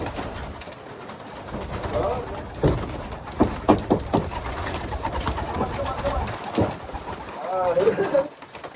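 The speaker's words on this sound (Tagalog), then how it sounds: "May ibon na ulit sa kapo." Pigeons coo in soft, repeated rolling calls close by at the loft, with a person talking intermittently over them.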